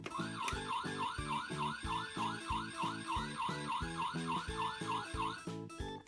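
A Dickie Toys fire engine siren wails in a rapid, repeating electronic pattern, close and steady, with no one speaking.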